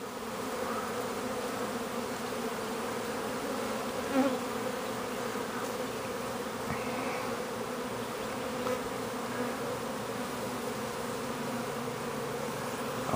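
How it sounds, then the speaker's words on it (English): A honeybee swarm buzzing in a low tree, a steady dense drone of many wings that holds close and even throughout, with the odd nearer bee passing. "See, that swarm is starting to grow more and more."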